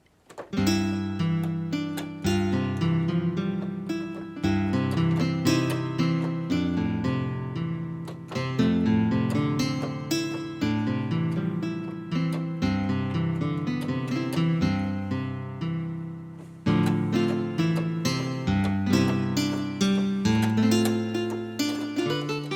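Synthesized nylon-string guitar tone from a Casio WK-7600/CTK-7200 keyboard, playing a flowing melody over plucked chords, with a brief pause near the end before the phrase resumes.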